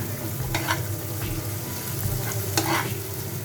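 Katla fish kofta curry masala with green chillies is being sautéed in a pan, giving a steady close sizzle with a few scraping stirs of a spatula.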